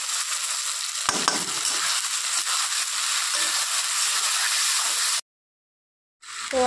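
A ground paste of green chili, ginger, garlic, cumin and onion hits hot oil with a loud, bright hissing sizzle that runs steadily, breaks off into a short silence, then starts up again.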